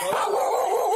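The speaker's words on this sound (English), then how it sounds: "Puppies! Dogs!" A dog at a house door during a police visit, a continuous whining, yipping bark sounding close and loud for about a second.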